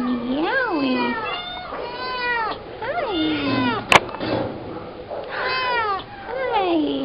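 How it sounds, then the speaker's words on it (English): A kitten meows repeatedly, drawn-out rising and falling cries close up, with a brief sharp click midway and pauses between calls. "meowing."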